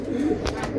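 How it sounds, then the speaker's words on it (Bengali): A Kitel line racing pigeon gives a soft, close coo lasting under a second, with a voice talking over it. "হ্যাঁ কিটেল লাইনের বাচ্চা কবুতর হ্যাঁ ভাই।"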